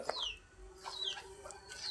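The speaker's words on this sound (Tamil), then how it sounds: "ஒரு பக்கம் கோழி குஞ்சும் இருக்குது ஒரு பக்கம் கோழியும் இருக்குது" A hen clucking near a pigeon coop with chicks, soft scattered clucks and short chirpy calls heard at a distance over quiet background.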